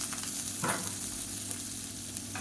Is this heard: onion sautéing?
yes